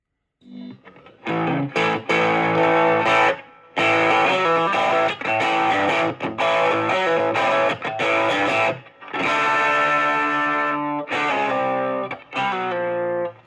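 A Fender Champion 20 amp set to a 1970s Marshall-style voice plays loud, distorted rock guitar chords and riffs, with several brief pauses between phrases and no talking.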